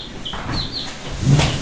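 Chicks chirping in a farm pen, with high thin peeps scattered across the clip and a louder cluster near the end, over low rustling background.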